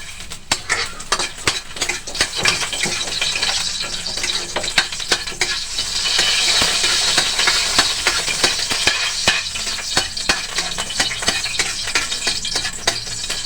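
Ginger sautéing in a hot pan with a cooking spoon, the first step of a crab in coconut milk dish, gives a loud, steady sizzle broken by frequent scraping and clinking stirs, close up, with no talking.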